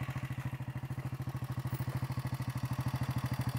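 A motorcycle engine idles on a wide road in the backcountry, its rapid, even thumping pulses steady and close, running alone without talk.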